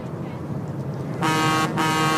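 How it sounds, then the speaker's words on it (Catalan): A car horn blares twice in long loud honks, a short gap between them, over low background rumble and murmur. "Ha fet allò del clàxon?"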